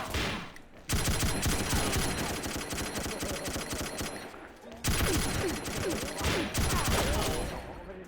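Sustained machine-gun fire in the shooter game XSHOT, likely from an old M60, coming in long, dense, loud bursts with brief pauses between them.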